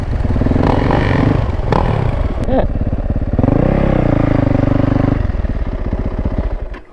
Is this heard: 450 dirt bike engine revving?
yes